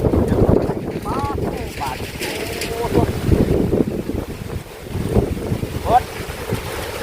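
Wind gusting across a microphone outdoors near water, a steady broadband rush with swelling gusts throughout, while people talk over it.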